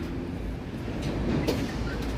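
A subway train rumbles through Dundas West Station in Toronto, a steady low roar with rattling wheels and faint metallic squeals, growing slightly louder as it passes close by.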